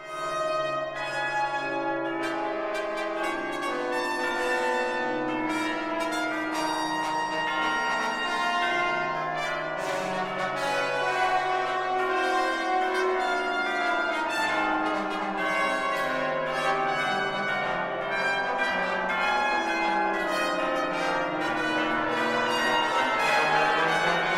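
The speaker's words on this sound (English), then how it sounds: "This little beauty is for trumpet, trombone, and church bells." Church bells ring in layered, sustained tones alongside steady trumpet and trombone notes, forming a continuous, fairly loud chorus that swells slightly toward the end, in a Charles Ives piece.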